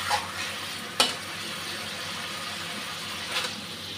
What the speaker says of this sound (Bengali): সর্ষে বাটা বেশিক্ষণ ভাজবো না